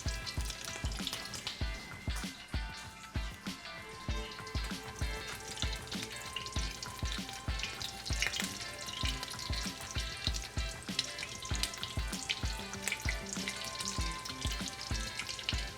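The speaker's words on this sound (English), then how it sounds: "when you're deep frying it like this" Crawfish and spinach taquitos deep frying in about half an inch of oil, giving a steady, busy sizzle with frequent crackling pops throughout, close and loud with no talking.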